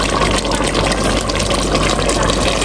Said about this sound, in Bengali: এখন আমরা পরিমাণ মতো ঝোল দিয়ে দিব